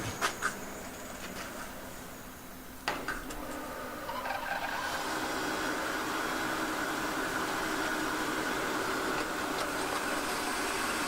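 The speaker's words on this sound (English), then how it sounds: "Ready to start the machine now." A turret capstan lathe starts up, with a few clicks and knocks followed by a steady, rising mechanical whir and hum that settles into a continuous running drone.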